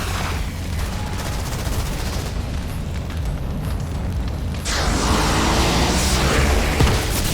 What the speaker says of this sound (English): if their health is low enough to eliminate them, they'll literally explode